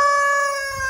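A rooster crowing among backyard chickens and hens, one sustained close, loud call heard alone.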